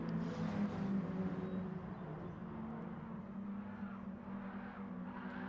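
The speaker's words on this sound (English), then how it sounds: "So it is actually Burntfry, giving his tyres a bit of a warm up." A race car in a Mini Cooper Cup round at Dragon Trail Seaside in a racing video game, its engine droning steadily with a strong low hum and faint tyre scrub throughout, loud and continuous with no talk.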